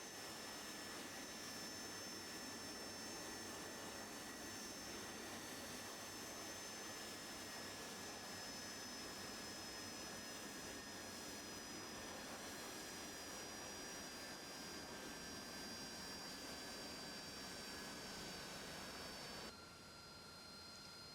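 Jet aircraft roaring steadily through its takeoff in the DCS flight simulator, a loud continuous engine drone with a high whine held throughout, then a slight drop near the end.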